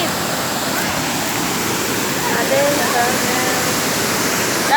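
Waterfall on a trail, a loud steady wash of rushing water that fills the whole clip without a break, with faint voices barely showing over it.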